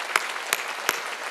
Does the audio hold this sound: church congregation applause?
yes